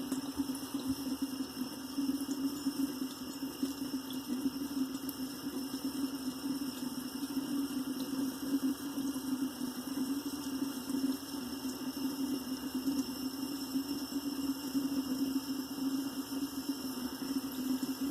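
Tap water runs steadily into a sink to wet a chin before shaving, a constant hiss with faint hum underneath, no talking.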